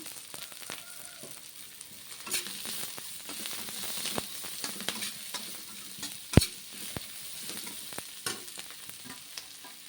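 Egg noodles fry in a pan with a soft, steady sizzle, stirred with scattered clicks and scrapes of a utensil and one sharp knock against the pan.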